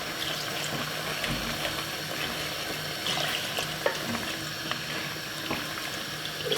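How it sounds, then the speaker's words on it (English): Water poured into a simmering pot of curry chicken with dumplings, a steady trickling splash over a soft bubbling sizzle, with occasional light clinks of a spoon or pot. "Add a little bit of water,"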